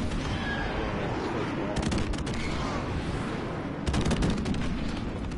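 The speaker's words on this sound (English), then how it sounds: "Friendly airstrike on the way" Friendly airstrike explosions pound a target in Modern Warfare Remastered, a continuous roar of blasts and rumble with sharp bursts of impacts near the middle and again toward the end.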